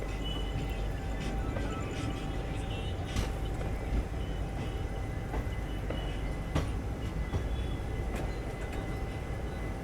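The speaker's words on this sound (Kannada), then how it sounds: "ಇದು ನಮ್ಮ ಟ್ರೈನು ಚಾಲುಕ್ಯ ಎಕ್ಸ್ಪ್ರೆಸ್ ಸದ್ಯಕ್ಕೆ ತಲುಪಿದೆ ಬಾಣಸ್ವಾಡಿ ರೈಲ್ವೆ ಸ್ಟೇಷನ್ಗೆ" The Chalukya Express, an ICF coach train, rolls into Banaswadi railway station with a continuous close rumble of wheels on track and scattered faint clicks, steady throughout with no voices.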